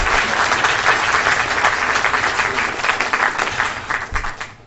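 Audience applause in a city council meeting chamber, a dense, loud burst of clapping from a roomful of people that holds steady for several seconds and then tapers off.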